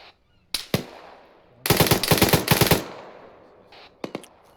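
A mounted .50 calibre machine gun in a military video game fires a loud, close burst of rapid shots, set between a few separate sharp single reports, with no voices.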